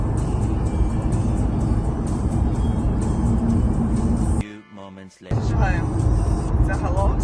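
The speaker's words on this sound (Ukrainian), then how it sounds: "Просто такий ну, дуже довгий тунель виходить. Багато машин всі їдуть." Steady, loud roar of many cars driving through a very long road tunnel on a trip from Warsaw to Croatia, heard from inside a moving car, dipping briefly before the dense traffic rumble returns.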